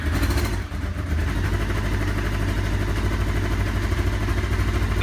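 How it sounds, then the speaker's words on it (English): A Honda CB500 motorcycle idles steadily up close, its engine putting out an even, loping throb with light mechanical clatter, running alone without voices. "That is my bike running"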